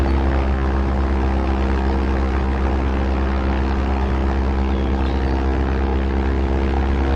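Steady, droning propeller-airplane engine in a video game airplane simulator, a continuous loud hum with strong low harmonic tones running unbroken throughout after landing.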